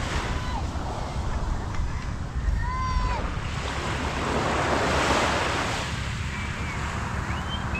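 Steady wash of small, gentle sea waves with wind rumbling over the microphone, a continuous outdoor roar with faint high bird-like chirps.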